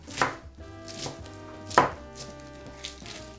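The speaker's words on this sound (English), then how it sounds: "this is just regular lettuce, and we'll chop that up real good" A knife chops regular lettuce on a board for ground beef tacos, with four or five distinct close, crisp strikes at an uneven pace and no talking.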